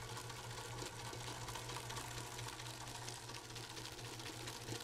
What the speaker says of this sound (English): Couple of more minutes of whipping.